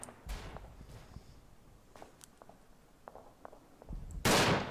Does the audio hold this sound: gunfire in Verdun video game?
yes